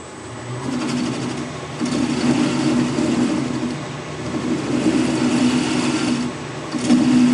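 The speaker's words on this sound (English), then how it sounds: "I'm using a high-speed sealer tool" A high-speed sealer tool runs in a workshop with a loud, close, humming mechanical drone that swells and eases in several bursts, with no voices.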